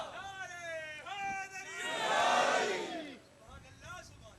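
A large crowd at a religious gathering loudly chants a devotional slogan in unison, swelling into a roaring response after a leading voice calls out, then fading as speech resumes.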